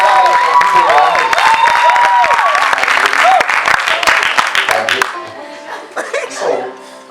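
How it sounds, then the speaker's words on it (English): A church congregation claps amid lively cheering and raised voices, the dense clapping running loud before thinning out, with speech heard near the end. "Okay, clap."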